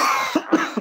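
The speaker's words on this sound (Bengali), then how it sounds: "জ্বর আর কাশি কিছুতেই থামতে চাইছে না।" A feverish woman coughs in a Bangla TV drama: two or three short, husky coughs close by over a steady background.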